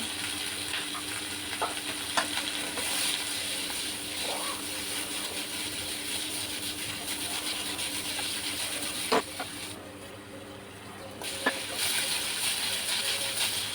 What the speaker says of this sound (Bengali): সামান্য পরিমাণে হলুদ দিয়ে আমি সবজিগুলোকে ভালোভাবে নাড়াচাড়া করে নেব